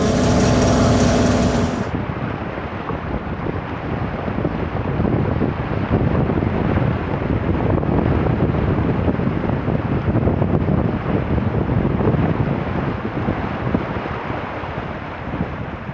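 Strong wind roars across the microphone on a sailboat under full sail in rough seas, with waves washing and rushing continuously beneath a dense, loud broadband rush that lasts the whole stretch.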